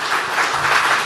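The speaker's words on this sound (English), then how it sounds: "Round of applause, please." Dense applause from a large audience at a presidential investment forum in Yokohama, Japan, a steady wash of many hands clapping at once with no voices.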